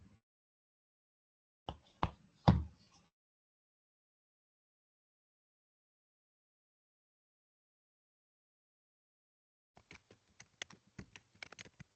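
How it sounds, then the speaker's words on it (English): Computer keyboard typing picked up over an online student government senate meeting: a short cluster of sharp clacks, a long silence, then a quicker run of light keystrokes, faint and close, with no talking. "Are you typing right now?"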